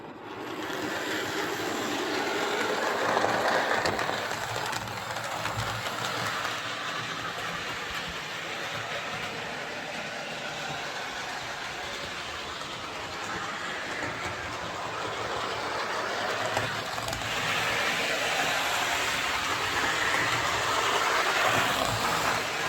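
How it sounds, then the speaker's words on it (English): A Hornby Class 28XX model steam locomotive with a tender under repair runs along layout track, giving a steady whirring motor hum with faint rail clatter, continuous and fairly close for the whole stretch. "So the motor's running fine, but there's still a connection issue between the locomotive and the tender."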